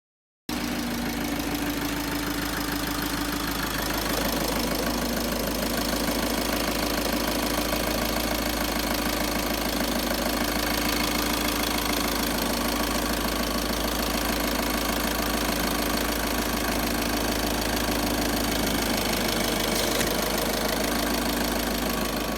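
A VW/Skoda 1.6 TDI diesel engine idles after injector cleaning. It starts abruptly, then holds a steady, loud, even rumble with a light rhythmic clatter for the whole stretch, and nobody speaks.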